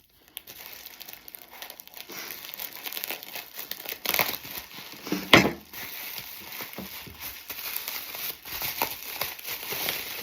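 Crinkling and tearing of wrapping material as a well-wrapped package holding a bowl is opened, rustling handling noise throughout with several sharper rips and crackles, one loud burst midway, close up and without talk.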